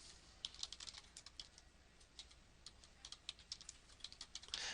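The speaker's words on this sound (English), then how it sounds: "now I will type in a piece of text" Keystrokes on a computer keyboard while entering text in label design software: quick, light, clicky taps in an irregular steady run, fairly quiet and close, ending in a denser burst.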